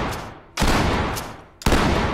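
Gunfire in the tactical shooter Ready or Not: two sharp, loud shots or short bursts, each ringing out with a long echoing tail that fades before the next.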